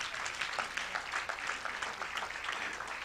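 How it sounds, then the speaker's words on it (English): Audience applause at a crypto summit, a steady dense patter of many hands clapping at moderate distance, fairly faint and continuous throughout with a hint of voices underneath. "Can we please give her again a big round of applause?"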